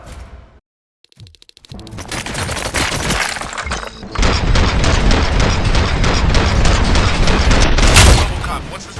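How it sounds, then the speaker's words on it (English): Dense, sustained gunfire from RoboCop: Rogue City: a brief quiet gap, then loud, continuous volleys that grow heavier after a few seconds and peak near the end. "Gunshots?"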